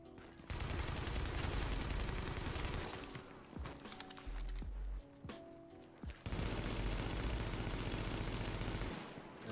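Automatic gunfire and heavy turret bursts from The Division, with a flame turret in use, come in loud sustained volleys broken by short pauses and single thuds, without speech.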